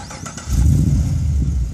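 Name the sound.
car engine starting via remote start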